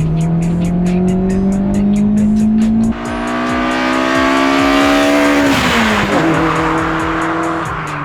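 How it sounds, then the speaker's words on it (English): A K-swapped Acura RSX four-cylinder revs hard on a dyno, its exhaust note rising through a loud pull, dropping briefly at a shift, then climbing again before easing off, with no voices. "That's a good 4-banger exhaust tone."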